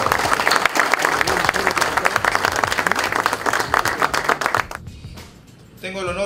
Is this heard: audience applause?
yes